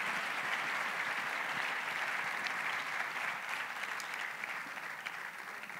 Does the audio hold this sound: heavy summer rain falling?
no